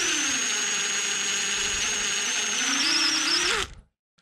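A small pilot hole is drilled into wood for a carved snowman ornament, giving a steady, close, loud whine that runs for about three and a half seconds, rises slightly in pitch near the end, then stops abruptly.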